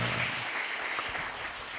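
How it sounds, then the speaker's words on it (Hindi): An audience claps together, a dense steady wash of applause that stays even and moderately loud for its whole short length. "ऐसे बजाते हैं ताली, जरा एक बार बजाओ।"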